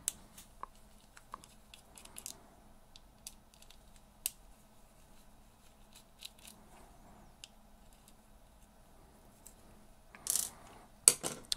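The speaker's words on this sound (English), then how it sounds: "Pop these two screws real quick." Screws being taken out of a Daiwa BG MQ spinning fishing reel, a series of small faint metallic clicks and ticks, ending in a couple of louder rattling clatters.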